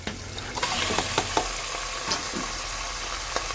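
Washed beef dropped into a hot cooker pan for beef pulao, sizzling and frying steadily with several sharp stirring scrapes and clinks of a spoon, close and fairly quiet, no talk.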